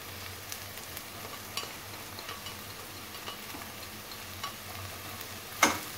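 Diced carrots cooking in a pan for a creamy chicken-and-mushroom dish, a low steady sizzle with occasional light clicks and a sharper scrape of stirring near the end.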